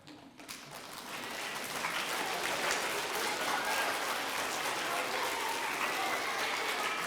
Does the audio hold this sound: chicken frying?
no